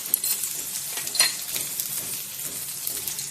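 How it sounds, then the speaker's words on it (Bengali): Ground turmeric and chilli powder fry in hot oil while being stirred, making a close, even sizzle with a few light scrapes and clinks of a spoon against the pan, with no talk. "এবার আমি মশলা দিয়ে দেবো। হলুদ গুঁড়ো, লঙ্কা গুঁড়ো,"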